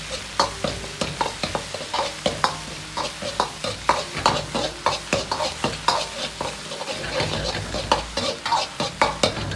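Pixian doubanjiang bean paste stir-fried in a wok with minced pork, ginger and garlic for mapo tofu, a steady run of scraping spatula strokes over a constant oily sizzle, close and fairly loud, with no talking.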